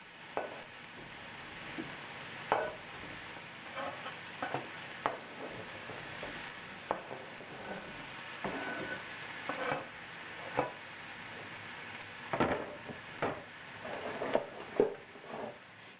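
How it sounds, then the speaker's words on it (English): Diced onion, fennel and sliced de-seeded peppers sizzle steadily in a sauté pan, a soft continuous frying hiss punctuated by scattered clicks and taps of stirring, close and fairly quiet. "Love the sound of that sizzle."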